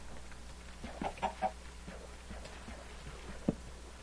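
A chicken in the video game Minecraft gives a few short clucks, three close together then one more a moment later, quiet over a faint background hum.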